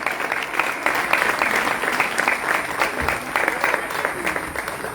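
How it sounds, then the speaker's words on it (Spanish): An audience applauds the artists at a gallery room inauguration and exhibition opening, a loud, sustained patter of many hands clapping continuously. "otro fuerte aplauso para las compañeras artistas"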